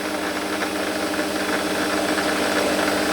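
A machine spindle runs flat out with the carriage locked, a steady loud whirring hum edged with a thin squeal that holds unbroken throughout, no one talking.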